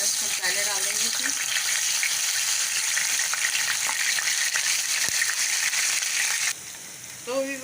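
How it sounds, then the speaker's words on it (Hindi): Ginger-garlic paste frying in hot oil for a tadka, a steady loud sizzle that runs unbroken for about six and a half seconds before easing slightly at the end. "इसको सबको फ्राई करते हैं, तड़का लगाते हैं"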